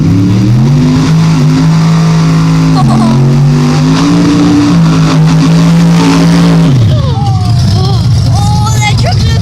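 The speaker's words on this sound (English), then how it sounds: "The truck sounds very cool." A truck engine revs hard and loud up close, holding a steady high-revving drone for several seconds before dropping off, with people talking over it.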